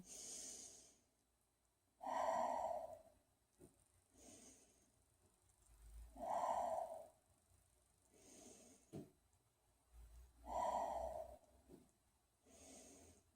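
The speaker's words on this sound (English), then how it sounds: "We're going to take 9 nice deep breaths here." Slow, deep breaths taken while holding a yoga forward fold, each a long airy inhale or exhale arriving about every four seconds, close and quiet with faint breathy pauses between.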